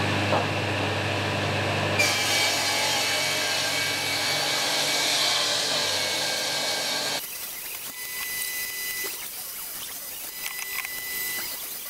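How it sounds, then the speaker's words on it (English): Table saw ripping planed wood in an off-grid earthbag workshop: a loud, steady whining drone runs for several seconds, then drops away to a quieter spin-down with faint knocks and rustles. "use a table saw to do the final face"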